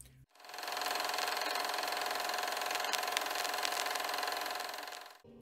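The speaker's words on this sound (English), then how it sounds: "Might as well just kill the engines." U-boat engines run in the Uboat submarine video game, a steady, loud mechanical drone that starts abruptly, holds evenly for about five seconds with faint clicks, then cuts off.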